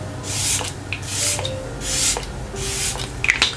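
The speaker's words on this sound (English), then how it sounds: "we're just gonna go ahead and spray our face before we start on the lips" Several quick hissing bursts of fine makeup setting spray misted onto a face, evenly spaced, close up and fairly soft.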